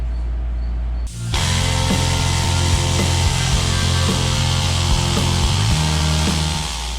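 A loud power tool fitted with a rust-cleaning attachment works on a 1956 Cadillac Sedan DeVille barn find, starting up after a second and then holding a steady whirring, rattling drone close by, with no voices.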